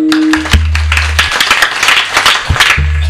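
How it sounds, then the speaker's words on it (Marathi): An audience claps hands at a Marathi comic kirtan, a burst of scattered claps over a sustained harmonium-like drone and low drum thumps. "टाळ्या वाजवा एकदा."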